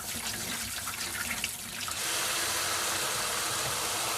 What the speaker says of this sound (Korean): 물로 또 깨끗이 흐르는 물에 하나하나 뽀독뽀독 닦아줍니다